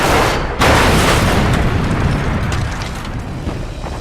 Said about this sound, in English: The wounded Focke-Wulf hits the ground in a brilliant explosion